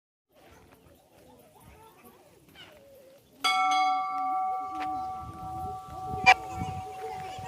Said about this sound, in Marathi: सुंदर असा घंटानाद ऐकल्यानंतर आपल्यालाही प्रसन्न वाटलं असेल